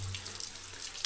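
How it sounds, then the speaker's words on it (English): Steady hiss of heavy rain falling and water running around a parked bicycle outdoors in Oman, a constant wash of close noise with small splashy bursts and a low hum underneath. "It's 3 hours that it's raining."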